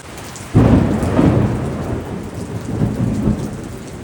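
Heavy rain with thunder on a coastal road near Chiplun: a loud rumbling thunderclap breaks in suddenly over a steady downpour, then rolls on and fades while the rain keeps hissing, with no voices.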